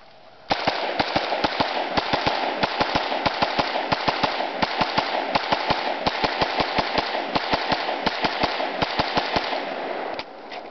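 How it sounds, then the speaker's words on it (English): Rapid gunfire from an AK-47 rifle followed by an XD45 pistol at a shooting drill, dozens of loud, sharp, close cracks in a fast steady string lasting about ten seconds. "David switching from the ak47 to the XD"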